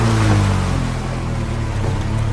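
A boat engine in the video game Rust drones steadily at close range, a low humming motor tone with water wash over a couple of seconds, no talk.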